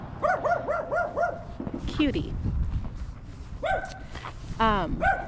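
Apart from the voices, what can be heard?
small dog barking behind a fence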